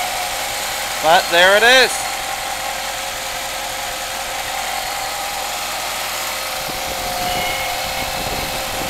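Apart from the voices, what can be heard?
1989 Chrysler Daytona engine cold start and idling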